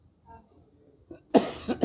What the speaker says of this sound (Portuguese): Pigarro.